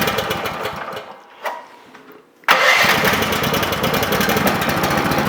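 A mini excavator's engine running, cutting out briefly, then cranking and catching with a loud burst before settling into a steady, close, rattling idle.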